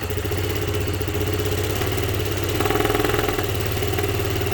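A Honda PS150i scooter engine with its air filter removed idles unevenly while drawing in too much air, a close, steady mechanical chatter whose pitch and firmness wander slightly with no voices over it.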